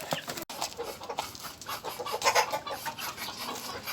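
A hen clucks repeatedly nearby in short, irregular bursts, with faint rustling and scratching around her.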